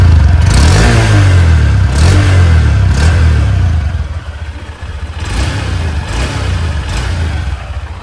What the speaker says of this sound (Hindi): अभी आप थोड़ी सी रेस देख दिखाता हूँ